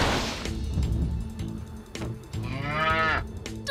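A cartoon cow moos in a PAW Patrol snowboarding scene. The loud, drawn-out lowing is broken by thumps and clattering effects, and a wavering moo swells near the end.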